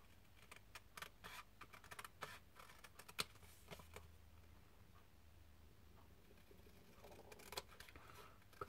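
Scissors cut around a paper picture for a Christmas gift tag, giving faint, close snips and paper rustles in an irregular run with brief pauses, set against a very quiet room.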